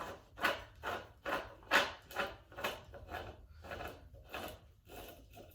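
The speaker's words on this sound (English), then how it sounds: "I'll unscrew this part." Plastic wrist roller parts from a 3D printer are unscrewed by hand, giving a quiet series of about ten soft grinding, rubbing pulses in a steady rhythm, close up.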